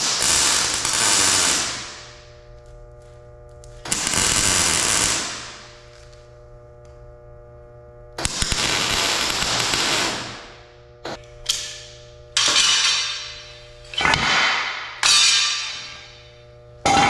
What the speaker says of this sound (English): now I'm just gonna grind everything so my plywood fits nice and flat on there